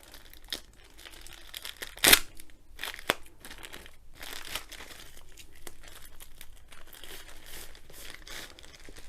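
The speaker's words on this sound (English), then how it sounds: "let's see if we can open this without using the scissors" Close plastic crinkling and crackling as packaging is handled and pulled open, with one sharp tearing burst and scattered crunches, no talking.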